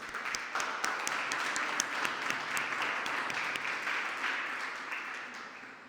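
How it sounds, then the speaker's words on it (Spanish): A church congregation applauds steadily during a sermon, a dense wash of clapping that holds for several seconds before gradually tapering off. "Demos un aplauso al Señor."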